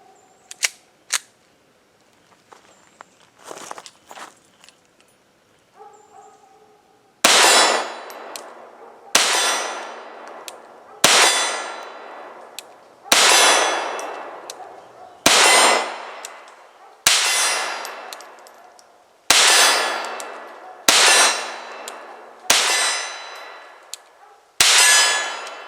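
Walther P22 pistol shots ring off steel targets at 20 yards: a few quiet handling clicks, then ten evenly spaced loud cracks, each followed by a bright ringing clang that fades.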